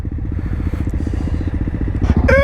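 A motorcycle engine thrums in rapid, throbbing pulses while the bike is ridden on a wild camping trip at Kaspersnek, close and fairly loud, with some rattling and clatter near the end.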